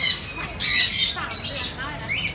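Big parrots kept in a shop give piercing squawks, two loud close bursts with a quieter call trailing after them.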